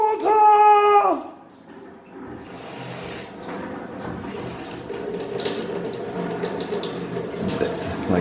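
Water runs steadily from a salvaged sink faucet in an off-grid home in Puerto Rico, a continuous splashing hiss following a brief high-pitched squeak as the tap opens.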